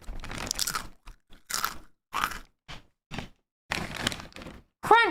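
Pretzels from a bag crunch in a quick, irregular series of crisp bites and chews, close and fairly quiet, with short gaps of silence between them.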